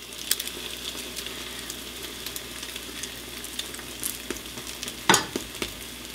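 A veggie omelet of egg and vegetables sizzles steadily in a frying pan, a soft continuous crackle with occasional scrapes and one sharper clatter as the pan is shaken, close and with no talking.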